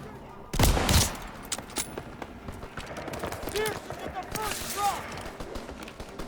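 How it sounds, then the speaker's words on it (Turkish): Gunfire in the video game Call of Duty: WWII, a loud burst near the start followed by lighter scattered shots and game effects, with no clear speech. "Vallahi hızlı vuruyorum."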